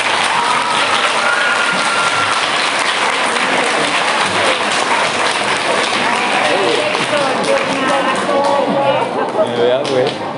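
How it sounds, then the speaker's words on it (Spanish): Audience applause for the teachers at a school literature event with a visiting author, loud dense clapping sustained throughout, with cheering voices mixed in. "¡Aplauso para sus profesores!"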